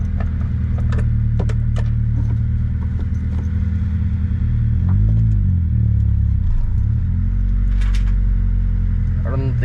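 A Honda Civic EK idles and rolls slowly in first gear, a steady low engine rumble with a brief swell in revs midway, continuous throughout, while light mechanical clicks and faint voices sit in the background.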